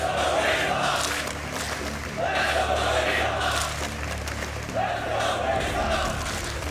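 Crowd noise at a live Counter-Strike esports match on the map Inferno at ESL Challenger Melbourne 2022, rising in cheering swells over steady arena murmur, with a commentator talking throughout.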